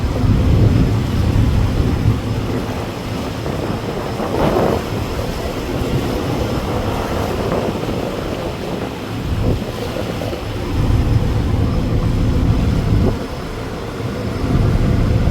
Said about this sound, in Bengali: প্রচণ্ড খেপা গতি নিয়ে ঢাকা বেতুয়া চরফ্যাশন রুটের টিপু চোদ্দ সুন্দরবন ষোলো লঞ্চটাকে ওভারটেক করতেছে